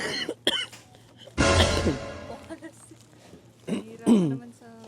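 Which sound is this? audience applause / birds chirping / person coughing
person coughing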